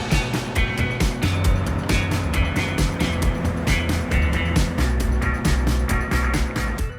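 A small car engine with individual throttle bodies revs and burbles steadily up close, a raspy, buzzy intake note holding throughout with rhythmic pulsing as the throttle changes.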